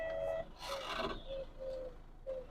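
Grinding, rasping chassis noise from a Mahindra Scorpio N as the gear selector moves from Park to Reverse, a rough scraping burst around mid-clip with faint tonal hums before and after, close and fairly quiet.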